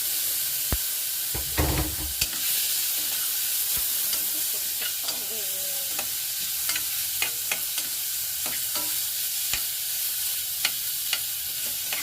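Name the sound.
tomatoes frying and being stirred in pan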